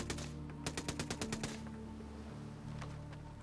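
An MK14 rifle in Ghost Recon Breakpoint fires a quick burst of about ten sharp shots in a steady rhythm, then stops, leaving a low hum with one or two faint later pops.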